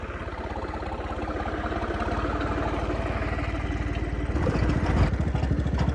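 A tractor engine runs in a farm field with a close, rhythmic chugging idle that stays even, then swells louder toward the end.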